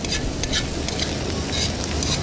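Onions fry in a pan for menemen at an outdoor camp stove, a steady close sizzle with soft stirring scrapes running through the whole moment, no voices.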